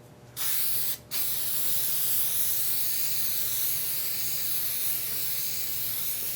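Spray adhesive hisses onto the seat back of a Ford F100 truck during upholstery work, a brief burst and a short gap before one long continuous spray runs to the end, close and steady.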